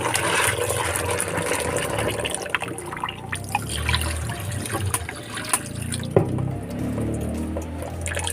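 Sago pearls being washed by hand in a basin of water for banana ginataan, giving steady wet sloshing and trickling with small splashes and drips, close and continuous.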